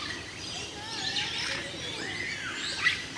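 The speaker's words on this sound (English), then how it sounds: "Watching the lovebirds." Lovebirds at Jurong Bird Park chirp and twitter in a steady, moderately faint stream of overlapping calls over a soft outdoor hiss.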